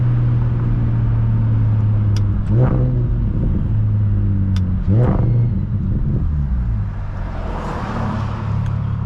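A BMW 335is with a 600-horsepower single-turbo engine revs while driving through side streets at night, a steady low drone that climbs in pitch in a few distinct surges, heard from inside the cabin.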